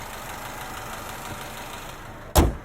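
A 2021 Cadillac CT4 V-Series engine idling with a steady low rumble, close by and moderately loud, ending in a sudden sharp thump near the finish.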